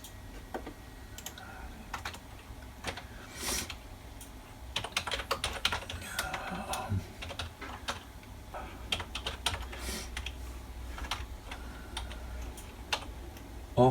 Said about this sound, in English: It's a bit awkward typing.